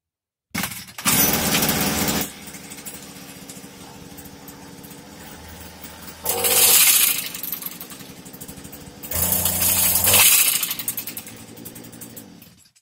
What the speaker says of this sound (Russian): Вот мы завели, мотор нормально заводится, а диск у нас не крутится.